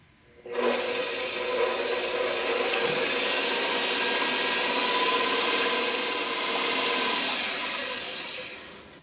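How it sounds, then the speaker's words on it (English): Stand mixer with a paddle attachment beating quick-loaf batter in a bowl, a steady loud motor whir with a broadband rubbing drone that starts abruptly and holds for about eight seconds, no talking. "I'm going to put my paddle on, and I'm going to mix it"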